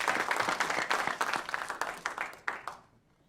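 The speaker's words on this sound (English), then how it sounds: "Have a round of applause for the young people." An audience at an SSW conference about Arches applauds young people, a dense burst of clapping that thins out and fades to near silence at the end, moderately loud with no speech over it.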